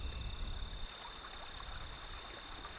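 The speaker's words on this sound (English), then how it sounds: "That is the trickling of water, the very sound of life itself." Water trickles faintly in a desert landscape as a soft, steady, continuous burble heard alone, with no voices.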